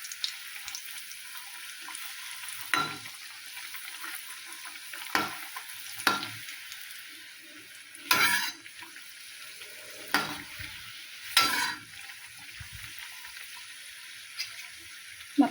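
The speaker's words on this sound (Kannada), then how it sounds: "ಸ್ವಲ್ಪ ಎಣ್ಣೆ ಬಿಟ್ಟು ಕರಿತೇವೆ ನೋಡಿರಿ" Karigadabu sweet dumplings fry in a little oil, giving a soft, continuous sizzle. Sharp clatters from turning and stirring in the pan break in every few seconds, close by.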